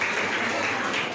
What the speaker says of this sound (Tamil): அவரை நம்ம கரகோஷத்தோட வரவேற்கிறோம்